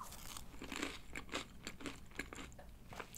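Someone eats McDonald's curly fries with spicy, salty seasoning up close. Crisp crunching bites and chewing repeat in quick irregular bursts, with no talking.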